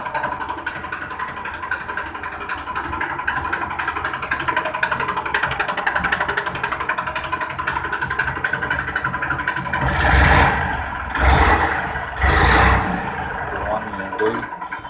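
A 2018 model tractor with only 163 hours of use, in Meerut, runs with a steady close engine chug, then three loud revving bursts before settling back to idle.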